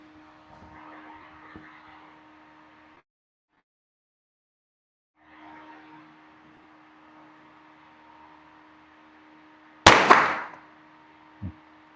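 Rock Island Armory MIG22 Tactical .22 rifle fired at an outdoor range: one sharp, loud report cracks out over a quiet hum, followed moments later by a smaller knock.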